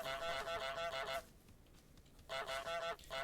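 A goose in Untitled Goose Game honks in quick bursts, a run of rapid nasal honks, a short pause, then another cluster, loud and up front with no talking.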